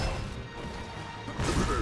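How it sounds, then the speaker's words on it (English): Heavy blunt whacks land on a fallen enemy in the action game Majin and the Forsaken Kingdom, a couple of hits over busy game noise and a fuller crash near the end. "Or to whack this one a couple times while he's down"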